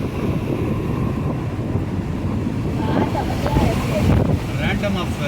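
Wind blows outdoors on a day trip to Courtallam, a steady, loud, rumbling roar across the mic with brief fluttering gusts and faint hints of voices underneath.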